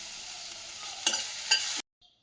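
Chopped carrot and onion frying in butter in a pan, a soft continuous sizzle with two quick stirring scrapes, ending abruptly in near silence.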